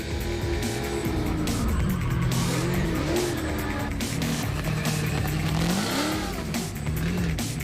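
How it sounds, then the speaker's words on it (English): A car's wheels spin furiously as boost comes in, the engine revving hard with rising and falling pitch while tires squeal and skid out of control, loud and continuous. "Wheel spinning furiously when it comes up on boost."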